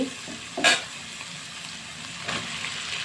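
Boiled Malabar spinach seeds are tipped into a frying pan with dried fish, making a quick sharp clatter, then a low, steady sizzle with a faint stir partway through.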